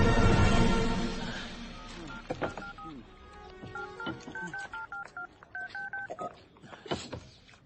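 Someone keys a number on a telephone to call an office, producing a quick run of distinct dial tones after some rustling and a brief voice.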